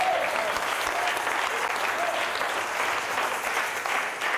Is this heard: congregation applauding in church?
yes